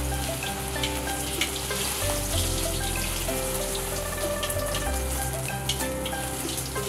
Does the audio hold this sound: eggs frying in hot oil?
yes